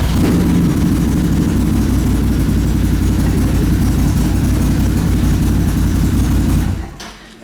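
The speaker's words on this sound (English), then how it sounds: "HMF Swamp Series pipe, same sound." An off-road bike engine fitted with an HMF Swamp Series exhaust pipe runs loud and steady at a constant idle for about seven seconds, then cuts off abruptly near the end.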